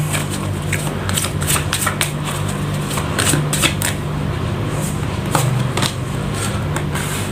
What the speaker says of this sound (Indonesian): Langsung saja saya shuffle kartunya.